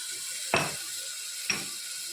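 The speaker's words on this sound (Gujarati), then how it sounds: "છાટું પાણી નાખી" Water is splashed into a pan of mixed vegetable curry, giving two short bursts of sizzling over a steady background hiss of frying, about a second apart.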